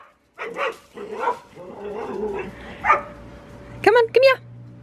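A dog barks and yips nearby in a suburban Australian garden, in short bursts with a pair of sharp barks near the end, mixed with a person's voice.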